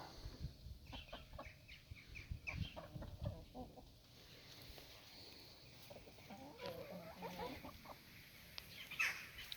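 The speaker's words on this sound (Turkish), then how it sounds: "Tavukları da doyurdum." Several chickens cluck and murmur nearby in a quiet outdoor setting, soft irregular clucks coming and going.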